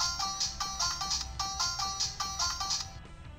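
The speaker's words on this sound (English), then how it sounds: "The famous McDonald's sounds." A Ninninger Ninshuriken candy toy plays a short electronic jingle resembling a fast-food chime, with bright, repeating beeping notes in a steady rhythm, close and tinny, stopping near the end.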